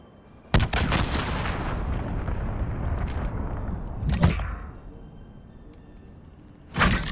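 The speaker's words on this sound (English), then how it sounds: "Allied cruise missile away." Allied cruise missile strike in Call of Duty: Modern Warfare, a sharp blast followed by a long rumbling roar that fades, with further impacts in the middle and at the end.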